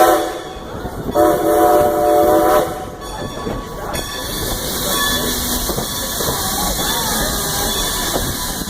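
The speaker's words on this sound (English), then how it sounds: "Another crossing. I like the whistle." Strasburg Railroad train in Pennsylvania sounds its whistle at a road crossing, a loud sustained tonal blast up close followed by steady hissing and rumbling of the moving train.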